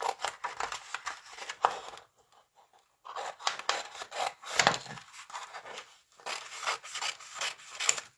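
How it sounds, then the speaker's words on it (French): Scissors snip a small piece of paper while crafting a folded celebration cake card, with close, rasping cutting strokes in short bursts separated by a brief pause. "je vais prendre tout simplement mes ciseaux pour aller me couper un petit morceau"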